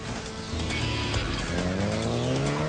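A Porsche race car laps the Snetterton circuit, its engine note climbing steadily through the revs with a brief hint of tyre noise, loud and close throughout.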